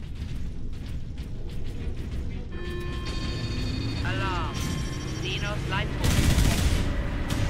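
Turret gunfire in Warhammer 40,000 Space Marine rattles in bursts amid game explosions and electronic tones, ending in a loud blast, with a player's voice talking over the action.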